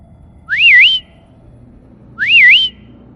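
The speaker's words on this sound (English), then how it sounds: "Without thinking, I whistled back." A rising, wavering whistled phrase sounds twice, each about half a second long, separated by a quiet pause over a faint low hum.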